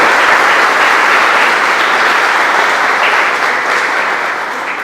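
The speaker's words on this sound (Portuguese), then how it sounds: "Você dá uma salva de palmas ao Senhor?" A church congregation at a worship service bursts into loud, sustained applause, a dense wash of many hands clapping together that holds steady for about five seconds and fades slightly at the end.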